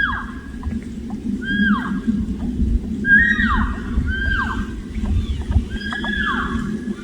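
A bull elk makes repeated bugling calls over splashing water, high whistling notes that slide downward, several in succession, with a low glunking gurgle underneath.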